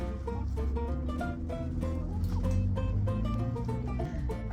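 Several chickens cluck and murmur nearby in overlapping, repeated short calls over steady low background noise.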